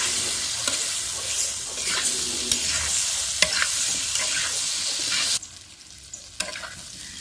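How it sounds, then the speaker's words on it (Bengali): Cut, washed potatoes fry in a pan in a rural Bengali kitchen, with steady oil sizzle and repeated scraping stirs, then the sizzle drops off sharply near the end. "এখন আমি কেটে ধুয়ে রাখা আলুটা দিয়ে দিব, দিয়ে এটা খুব ভালো করে আমি ভেজে নেব"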